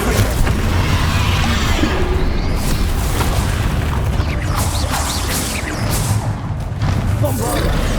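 Blasting spells such as Confringo erupt during a Hogwarts Legacy video game fight: loud, dense booms and crashing bursts pile up continuously, with whooshes and a voice mixed into the din.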